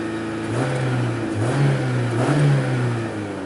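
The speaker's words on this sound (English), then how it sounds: "So when we rev it up, we're still pretty" A 2001 Saturn Coupe that barely runs has its engine revved up from idle in two swelling pulls, the pitch climbing and falling back between them, loud and close with no voices over it.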